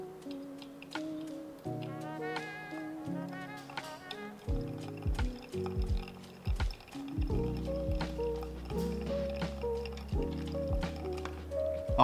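Water is poured into a Timemore Crystal Eye B75 flat-bottom coffee dripper, a close trickling and splashing stream with drips over a soft steady background tone, running for several seconds.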